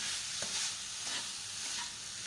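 Sweet patishapta stuffing being stirred in a pan on a gas stove, a steady close sizzle with soft scrapes of the spatula against the pan, no voices.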